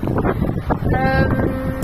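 Wind gusting outdoors during an evening walk, a steady broadband rush buffeting the microphone throughout, with a faint tonal hum briefly rising through it.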